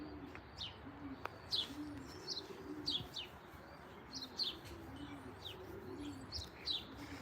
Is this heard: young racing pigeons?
yes